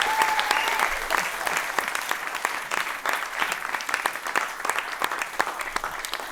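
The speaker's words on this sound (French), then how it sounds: "on les applaudit bien fort" An audience claps steadily for several seconds, a dense even patter of many hands at a conference event, with no voices over it.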